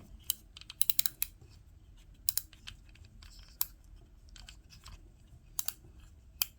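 The drag knob on an Abumatic 136 spincast reel from about 1969 clicks as it turns, giving sharp ticks in irregular bursts, close and crisp over a quiet background with no talk.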